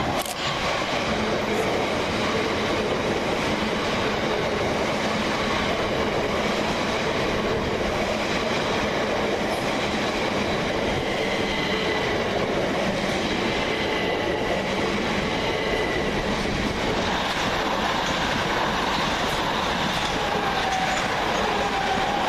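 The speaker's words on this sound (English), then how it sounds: "Next through the station is 377608 and 377616, working 1 Zulu 26 from London Victoria to Brighton." Southern Class 377 electric trains pass through Southwick station, a sustained rolling rumble with wheel clatter and light squeal, fairly close and steady, without talk.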